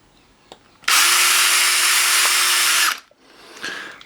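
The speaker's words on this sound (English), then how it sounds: "I'm just going to essentially drill inside each hole and then fill it up." A power drill bores into a hole in a 3D printed plastic part, producing one loud, steady high whine for about two seconds, with quieter handling noises before and after.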